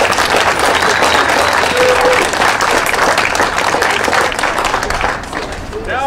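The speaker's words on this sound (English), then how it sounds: "Give each other a big hand of applause for doing such a great job." Sustained audience applause fills a room at a speaking event, dense and steady clapping from a crowd that tapers slightly toward the end, with faint murmuring mixed in.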